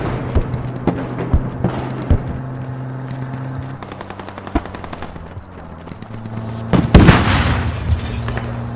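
Explosions and gunfire in the military shooter game Squad, with repeated sharp bangs and bursts over a steady engine-like drone, and a loud blast near the end.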